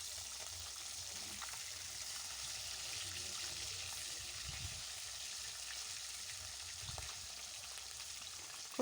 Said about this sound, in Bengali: মাছগুলো এবার আরেক দিকটা উল্টে দিচ্ছি।